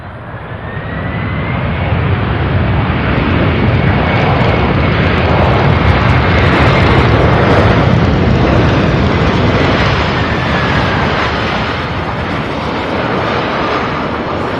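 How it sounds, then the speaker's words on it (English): Boeing 767 arriving from San Diego, landing at Louisville International: a loud, close, sustained roar of jet engines swelling and holding across the whole stretch, with a faint whining tone sweeping through it, no speech. "767 out of San Diego landing now."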